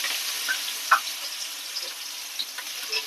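Chopped onion and curry leaves frying in hot oil with cumin seeds in a pan, a steady soft sizzle with occasional small pops and crackles, heard close and alone.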